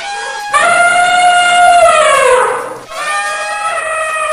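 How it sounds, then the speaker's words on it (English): An elephant trumpets loudly and close by. One long, brassy call bends downward in pitch, then a second blast follows straight after, with no voices. "E for elephant."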